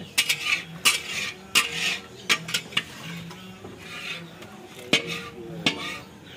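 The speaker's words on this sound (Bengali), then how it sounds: "সিংড়া কন্টিনিউ খুন্তি নেড়ে যাচ্ছে আর রথিন হাতা দিয়ে তুলছে।" A large pot of bhog for a communal bhandara is stirred with a metal spatula while a ladle lifts food out, giving irregular sharp metallic clanks and scrapes against the pot over a quiet background.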